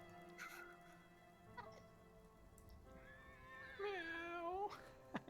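A voice imitates a cat's whiny, drawn-out cry, rising and falling in a couple of mewling wails, with faint clicks in a quiet room.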